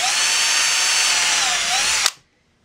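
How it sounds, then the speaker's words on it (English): A power drill whines steadily and loudly at high pitch, drilling pilot holes through aluminum into plywood, the motor speed dipping briefly before it cuts off abruptly, leaving silence. "I'm drilling pilot holes through the aluminum into the plywood"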